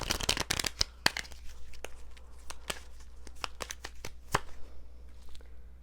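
A deck of cards riffles and snaps in quick, crisp bursts, close up and fairly quiet, with no voices.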